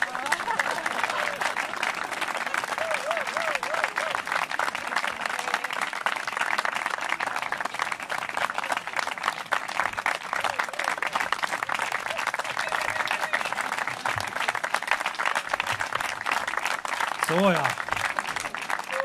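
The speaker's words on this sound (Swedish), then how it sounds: "Man ska alltid applådera till artisterna av scenen" An audience at the Boda folk music gathering keeps up long, sustained applause for the performers as they leave the stage, steady clapping throughout with a voice talking briefly underneath near the end.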